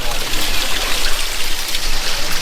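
Water runs continuously from an open outlet with no tap or cover at a latrine, a loud, steady rushing flow filling the whole stretch with no pause, while voices speak faintly beneath it.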